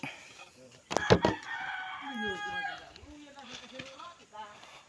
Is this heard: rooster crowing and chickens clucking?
yes